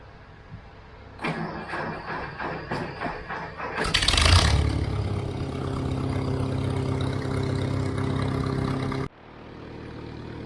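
An old farm vehicle parked in a barn among old bales, the starter cranking in a rhythmic churn before the engine catches with a loud burst, then settling into a steady idle that drops off abruptly near the end.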